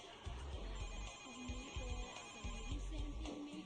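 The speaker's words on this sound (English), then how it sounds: "Senor Vargas is on the phone for you" A telephone ringtone repeating its bell-like pattern in a business setting, fairly faint behind a low murmur of room noise.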